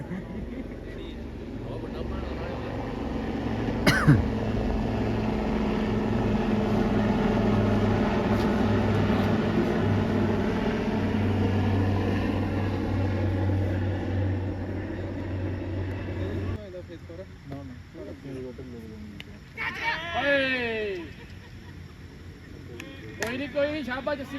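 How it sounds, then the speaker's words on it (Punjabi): A helicopter's engine and rotor drone loudly and steadily for several seconds at a ground in Bathinda, then cut off abruptly, followed by quieter background with people talking. "ਹੈਲੀਕਾਪਟਰ ਆ ਗਿਆ ਓਏ"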